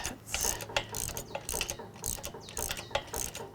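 Metallic clinking and ratcheting as roller chain links are handled and fitted to the sawhead lift of a large bandsaw mill, irregular close-up rattles in quick bursts.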